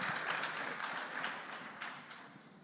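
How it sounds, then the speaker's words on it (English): Applause from a conference audience at a national security cybersecurity event, a steady wash of many hands clapping that holds for a few seconds, then eases slightly toward the end. "Give them a round of applause"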